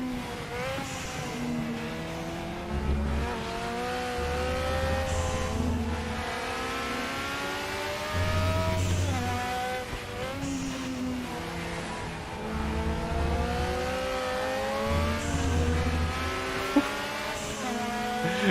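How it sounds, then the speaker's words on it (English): Race car engine in RaceRoom Racing Experience at the TT Circuit Assen, revving hard and shifting up and down through the gears in repeated rising sweeps, loud and continuous with no talk. "I don't think I'll ever get tired of hearing this car"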